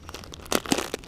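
A plastic packet of Brain winter groundbait for crucian carp fishing is handled and opened, with close, brief bursts of crinkling and tearing plastic over about a second.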